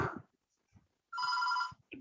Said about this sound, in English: this phone rang